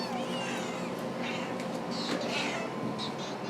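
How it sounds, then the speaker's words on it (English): Kittens in an animal shelter give several faint, high meows over a steady hum of shelter noise, closely spaced in the second half. "this is Ellen with her 2 little orphan kittens"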